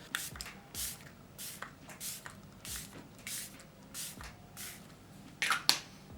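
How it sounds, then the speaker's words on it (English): Repeated short hissing spritzes of a Rare Beauty Always an Optimist setting spray bottle, about a dozen bursts in a loose rhythm, close and fairly quiet. "I'm going to take my Rare Beauty Always an Optimist setting spray"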